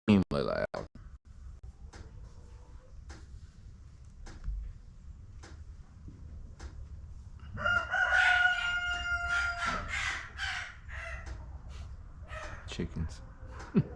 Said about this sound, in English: the roosters are loud, extremely loud, unfortunately.